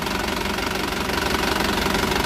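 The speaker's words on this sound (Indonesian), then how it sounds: "Seperti ini kondisi mesinnya, bisa kalian perhatikan." Engine of a 2018 Isuzu Elf Giga Adiputro minibus running, a loud close diesel clatter with a rapid even knocking rhythm that stays steady throughout, with no voices.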